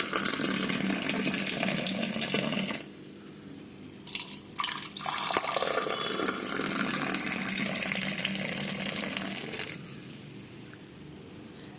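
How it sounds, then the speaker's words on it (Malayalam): Tea pours steadily into a glass in a close, continuous splashing stream. It stops briefly, then pours again with a trickling finish. "നമുക്ക് ഗ്ലാസ്സിലോട്ട് ഒഴിക്കാം"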